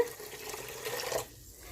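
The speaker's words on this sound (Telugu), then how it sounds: "ఇప్పుడు కొంచెం వాటర్ వేసుకుందాము అంటే ఒక అర గ్లాసు" A short, close pour of about half a glass of water splashing onto sugar in a pan for about a second, then stopping, leaving a faint quiet background.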